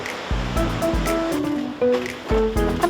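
Ocean surf breaking on Jukdo beach, a surfing beach in Yangyang, in midwinter: a steady rushing wash with repeated low swells, heard close and fairly loud, with no talk.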